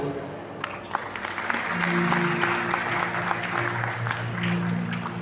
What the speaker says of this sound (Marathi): सगळ्यांच्या टाळ्या होऊ द्या